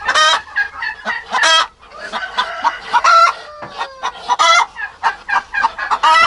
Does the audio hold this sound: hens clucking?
yes